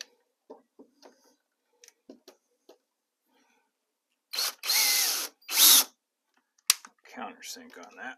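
A power drill drives 1 1/4 inch drywall screws in two short close whirring bursts, preceded by soft clicks and handling taps and followed by more light clatter.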